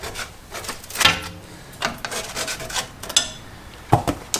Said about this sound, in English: if you can, just scrape out all the rubbish